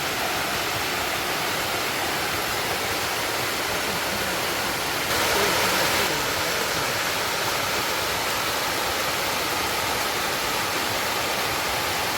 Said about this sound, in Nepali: यस्तो सानो झर्ना पनि देख्न सकिन्छ है